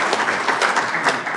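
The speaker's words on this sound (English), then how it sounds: "I hope that applause was for me" Brief burst of applause from an audience greeting a speaker at a Florida hemp industry event, a dense patter of clapping heard alone.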